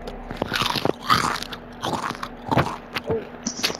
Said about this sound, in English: What chips are you munching on?